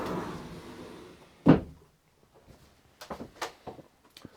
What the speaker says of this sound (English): The doors are always closing, and the drawers don't move also.